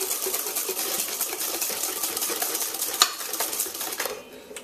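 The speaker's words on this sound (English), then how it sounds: "So as I whisk, I'm just going to add some of this hot cream to it, just to temper it so we don't cook the eggs." A whisk clinks steadily against a bowl as hot cream is poured into eggs to temper them for soursop ice cream, a busy rhythmic metallic scraping close up that fades near the end.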